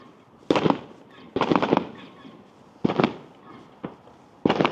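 Bonfire Night fireworks burst along a street in five sharp, loud explosions spaced a second or so apart, each with a short crackling tail, against quiet outdoor ambience.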